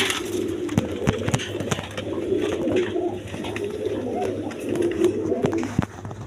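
A pair of Indian Lotan pigeons coo repeatedly in low throaty phrases, steady and close, with sharp clicks and a little background chatter.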